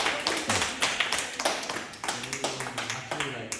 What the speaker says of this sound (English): Yes, can we give a loud applause?